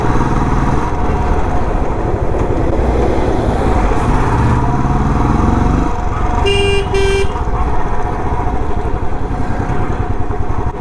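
Motorcycle ridden on the road during a trip toward Kullu Manali, its engine droning loudly and steadily up close amid traffic noise, with a brief horn toot partway through.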